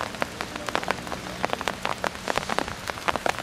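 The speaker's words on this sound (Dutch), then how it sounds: "Het is weer flink gaan regenen." Heavy rain falling in a garden in Malta, with drops pattering on surfaces as irregular close taps over a soft, steady wash.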